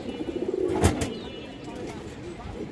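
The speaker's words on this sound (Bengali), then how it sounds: "এখানে একবার কালদম কবুতর আছে মাসাল্লাহ দেখেন ডাকাটাকে শুরু করে দিচ্ছে" A Kaldom pigeon coos in a short burst of low, repeated pulses near the start, with a voice speaking over it and faint background noise throughout.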